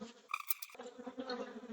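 Honey bees buzz near an open hive during an inspection, a close, thin droning with wavering pitch from one or a few bees, ending in a brief louder bump.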